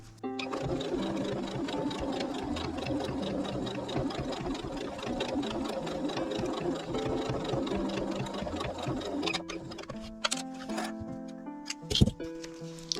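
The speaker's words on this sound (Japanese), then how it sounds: "ここ下をずっと縫っていきます。" A sewing machine stitches along the bottom of a small patchwork pouch, a fast, steady mechanical whir with rapid needle patter close by, running for about ten seconds before stopping amid a few clicks and handling noises.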